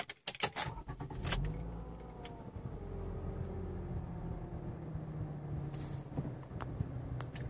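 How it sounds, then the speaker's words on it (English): A 2015 Toyota Camry LE starts up after a few key jingles and clicks, then settles into a quiet, steady idle heard from inside the cabin. "this will be a test drive of the 2015 Toyota Camry LE. All right, let's start it up"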